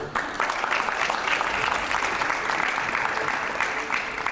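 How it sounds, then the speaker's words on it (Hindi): A studio audience at a TV interview breaks into applause, a dense sustained clatter of many hands that starts abruptly and stays level and close for several seconds. "तालियां थोड़ी कम आ रही है"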